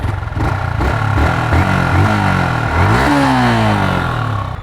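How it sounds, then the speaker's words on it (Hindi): Older-model Yamaha R15 motorcycle with a changed aftermarket exhaust, revved repeatedly from idle in loud, close blips that rise and fall, ending in a longer climbing rev. "पहले आपको इसके एग्जॉस्ट की साउंड सुनाता हूँ मैं।"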